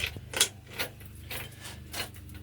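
A bicycle wheel mechanism is loosened, producing a series of short mechanical clicks and ratcheting creaks at an uneven rhythm, close and fairly quiet.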